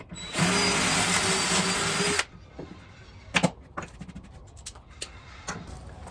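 A power drill drives pocket screws into a laundry room cabinet, giving one loud, steady whir of about two seconds that then stops, followed by scattered clicks and light handling knocks.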